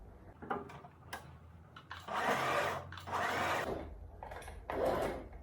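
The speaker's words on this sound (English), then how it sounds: "just raise your machine a bit, then you continue to sew" A sewing machine stitches a baby girl's ball dress in short bursts, with three longer runs of steady whirring between pauses and quiet handling clicks, heard up close.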